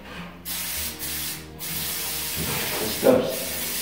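Adhesive sprayed from an aerosol can onto taped metal drywall corner bead during metal stud framing, heard as several steady hissing bursts up close with brief pauses between them.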